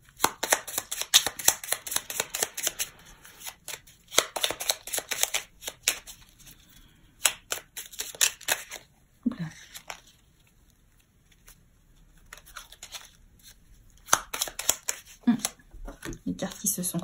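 A mini petit Lenormand deck shuffled by hand: brisk riffling flutters in repeated bursts, separated by short pauses, close and crisp, with a voice briefly in between.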